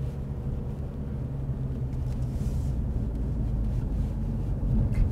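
Steady low rumble of a car cruising along the Third Ring Road, with road and engine drone continuous and fairly loud throughout, no voices.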